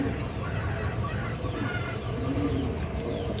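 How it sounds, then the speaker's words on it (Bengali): A pair of black-necked giribaz pigeons coo in low, rolling, overlapping phrases, steady and close, amid a busy loft of many birds. "এবার এক জোড়া কালো গলা কবুতর"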